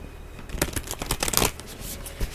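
Tarot cards from a Divine Feminine deck shuffled by hand, a run of quick papery riffles and flicks in close succession, fairly close and alone with no talk.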